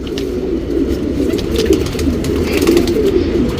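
A champion-line pigeon coos in low, steady rolling notes, close and fairly loud, with no talking.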